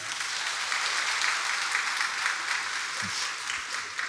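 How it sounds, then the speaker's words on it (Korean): Audience applause at a network marketing success academy event in Seoul, a steady dense wash of clapping from a crowd that holds through the whole span without voices on top. "우리 박수 한번 쳐드릴까요?"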